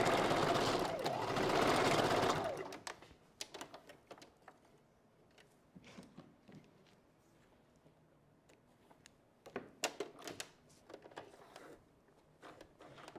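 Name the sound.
Janome Sewist 500 sewing machine stitching hair wig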